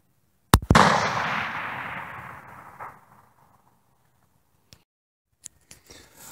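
A single sharp rifle shot from a Remington 788 chambered in 22-250, fired toward a target at 300, cracks loudly and close, then rolls off in a long fading echo, followed by a few faint clicks.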